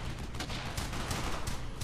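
Dense, continuous gunfire in the World War II shooter game Brothers in Arms: Hell's Highway, with loud overlapping rifle and machine-gun bursts filling the whole stretch without pause.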